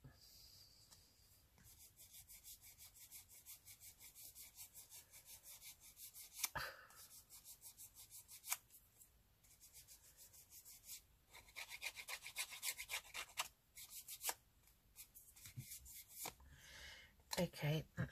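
Dried glue rubbed off a page in a handmade Gothic-style journal, repeated scratchy rasping strokes up close in uneven bursts, with a voice speaking at times.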